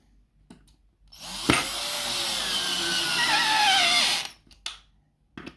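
A power drill driving screws into B&Q kitchen drawers, one sustained whirring burst of about three seconds with rising pitch as the screw bites, framed by a few handling clicks before and after.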